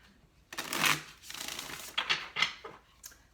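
Tarot cards shuffled by hand indoors, a few quick papery riffles and soft slaps close up, in short bursts with brief pauses between them.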